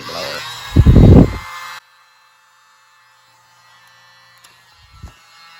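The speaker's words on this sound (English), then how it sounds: "I'll use my little mini blower." A small handheld electric mini blower runs loud and close for about a second over a poured acrylic paint surface, then switches off, leaving near silence and a faint brief thump near the end.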